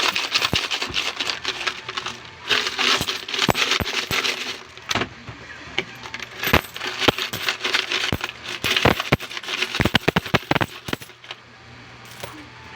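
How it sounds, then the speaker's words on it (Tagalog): Coins are dropped and shaken inside a full piggy bank, a busy run of sharp metallic clinks and rattles in irregular bursts, close and fairly loud, with no speech over it. "Puno ng barya."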